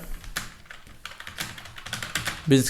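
Rapid key clicks on a computer keyboard as a search is typed, close and fairly loud in uneven bursts, with a louder clatter near the end.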